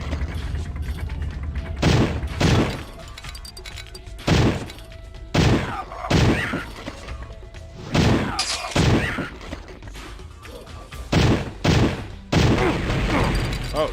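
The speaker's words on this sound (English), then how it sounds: "Why do I have to shoot a vase twice?" Gunfire and impacts in a video game as a vase is shot, a series of loud booming shots and shattering hits in irregular bursts, with occasional talk in between.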